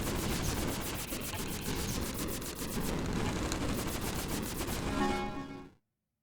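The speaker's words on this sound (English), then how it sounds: "Machine gun. I said I needed that. I'll take it." Rapid machine gun fire in the sci-fi game Approaching Infinity Survivors, a loud, steady stream of evenly spaced shots that runs for several seconds, then cuts off abruptly into silence.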